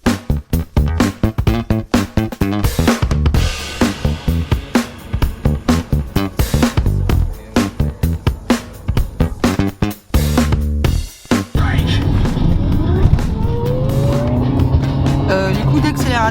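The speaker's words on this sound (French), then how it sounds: "Les coups d'accélérateur comme ça, t'as vu?" A car engine is revved with repeated sharp accelerator blips, loud and close, a rapid choppy pattern of rising and falling bursts followed by a steadier drone, with people talking over it.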